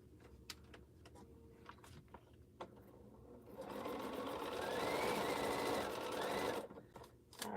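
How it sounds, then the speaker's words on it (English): A sewing machine stitches through quilt fabric in a steady run at close range, starting and stopping in short bursts before one longer continuous burst of stitching, with no talking. "So I have to work my way up to the fabric that I'm about to sew."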